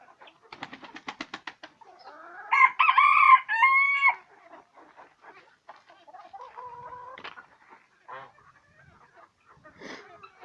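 A rooster crows loudly nearby, with rapid clucking before it and more scattered clucks and calls afterward from Leghorn hens and chicks.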